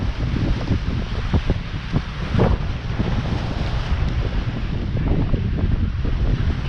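Strong wind buffets the microphone in a steady, loud roar at a rock jetty in Perdido Pass, Orange Beach, with surf washing beneath it throughout and no voices.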